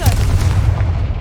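A Confringo blasting-spell explosion in the game Hogwarts Legacy: one loud, deep boom that fills the short moment and rumbles on without fading.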